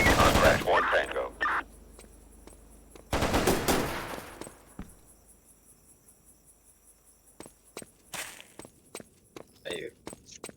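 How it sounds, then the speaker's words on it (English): Enemy gunfire in a tactical shooter game, bursts of rapid shots near the start and again around three seconds, then scattered sharp single cracks later, with crickets chirping in a quiet background. "They're shooting at me."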